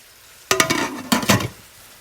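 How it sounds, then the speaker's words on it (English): Vegetables sautéing in a pan for hamburger beef soup, two short loud bursts of stirring and clinking over sizzle, close, separated by a brief pause, then quiet. "my veggies are kind of halfway sauteed"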